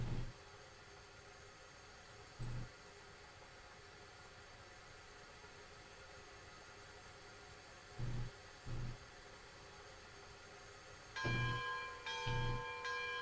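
Steam locomotive bell in the train game Railroads Online, sounding as a few isolated clangs spread across a quiet stretch, with a tighter cluster of rings near the end over a faint steady background hum.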